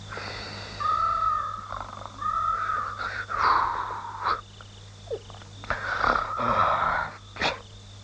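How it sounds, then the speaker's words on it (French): Snoring from a sleeping person in a kung-fu action film, heard as a run of drawn-out, rasping, wheezy tones that rise and fall with each breath, close and fairly loud. "Tu vas arrêter de ronfler, oui."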